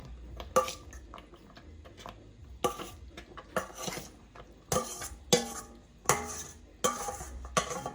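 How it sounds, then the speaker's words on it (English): Dry pasta for mac and cheese is tipped into a metal pot in bursts, giving a series of sharp clinks and rattling scrapes with quiet gaps between them. "So right now, I'm going to start adding that pasta in."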